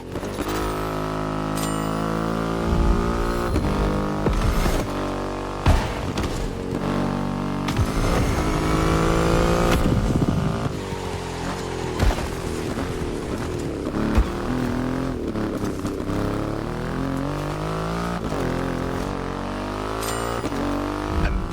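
A Triumph Rocket 3 motorcycle with a 2.5-litre engine runs in The Crew Motorfest video game, loud and close, its engine note rising and falling through revs and gear changes with a deep steady rumble underneath.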